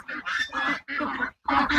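Several loud, close Peking duck quacks on a duck farm in Chandpur, in quick bursts, harsh and nasal, separated by short pauses.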